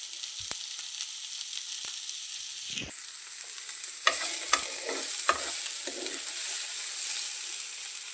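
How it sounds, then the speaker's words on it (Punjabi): Onion and ginger roast in a pan for pasta, a steady sizzle with a few sharp spatula clicks and louder scraping stirs near the end, close and with no speech. "ਪਿਆਜ਼ ਪਾ ਦਿੱਤਾ ਹੋਇਆ ਅਦਰਕ ਤੇ ਬਸ ਹੁਣ ਇਹਨੂੰ ਹੀ ਭੁੰਨਾਂਗੇ"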